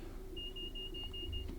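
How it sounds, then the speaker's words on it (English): A thin, steady electronic tone rings for about a second inside a Class 66 diesel locomotive cab in Train Sim World 5, sitting faintly over the low hum of the engine. "there's a little beep there"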